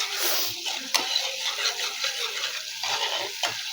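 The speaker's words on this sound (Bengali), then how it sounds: "রান্না হচ্ছে।" Food fries and sizzles in a pan with a steady crackle, broken by several louder scraping stirs of a utensil against the pan.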